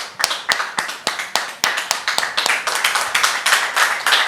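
An audience claps to welcome a guest, Mr. Trabi Jean-Marc, onto a talk show set, a dense run of sharp hand claps that stays steady and close throughout.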